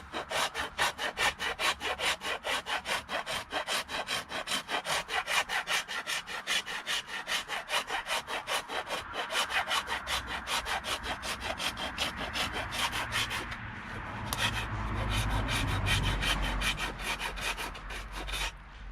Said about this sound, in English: If I continuously rasp up here, you're going to cause less wood in the top of the eye